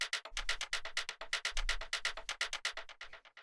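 A programmed shaker-like percussion part for a minimal house track plays a steady, fast run of crisp, hissy hits over a soft low thump, loud and up close with no voices.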